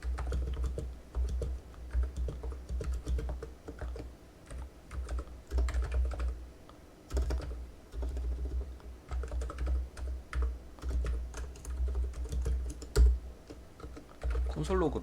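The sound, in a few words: typing code on a computer keyboard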